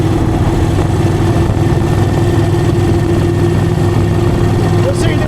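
A 2001 Moto Guzzi EV80 Anniversary motorcycle cruises in fifth gear at low revs, its engine a loud, steady droning hum with constant wind rush and no break throughout.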